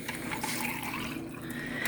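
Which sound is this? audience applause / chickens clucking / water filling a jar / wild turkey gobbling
water filling a jar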